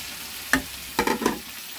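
Chicken frying with spice masala in a pan, quiet sizzle broken by a scrape and then a brief cluster of spoon knocks and stirring sounds, close by.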